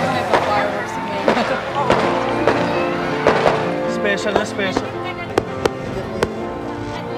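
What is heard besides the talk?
fireworks exploding outside at Christmas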